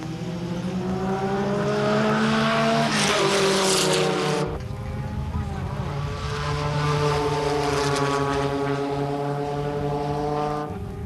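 Race car engines drone at car races in La Junta, a loud, sustained harmonic roar that shifts in pitch as the cars pass, with an abrupt drop and a second building surge.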